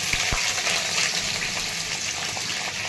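Cumin, mustard seeds, peanuts, green chilli and onion frying in oil for kanda poha, a dense, steady close-up sizzle with a couple of soft knocks near the start and no speech.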